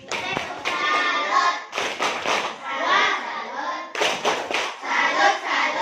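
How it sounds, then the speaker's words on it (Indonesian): Children in a classroom perform a rhythmic 'tepuk salut' clap cheer, patterned hand claps in short bursts interleaved with the group chanting along. "Tepuk salut untuk Kiki."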